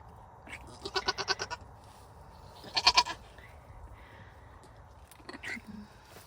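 A newborn goat kid bleats during a homestead birth: two rapid bursts of high, wavering bleats, close and clear, followed by softer sniffs and rustling, with people speaking quietly nearby.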